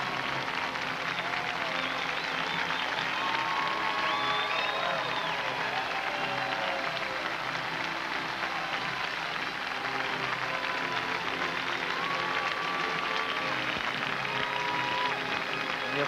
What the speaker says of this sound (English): The applause hasn't stopped for those 3 athletes